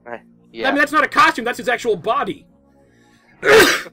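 A single loud sneeze bursts out near the end, following a stretch of close conversational talk during a game session.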